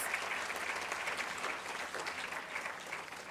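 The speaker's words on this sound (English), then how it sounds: "A round of applause for Dr. Reddy, please." Audience applause at an award session, a steady, moderately distant wash of clapping that holds evenly throughout without voices on top.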